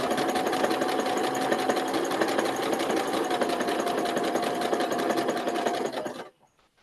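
A sewing machine stitches quilt pieces together, a steady, loud mechanical whir with a fast even rhythm that runs unbroken for about six seconds before stopping abruptly.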